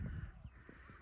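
A crow caws faintly a couple of times in a quiet rural farm setting.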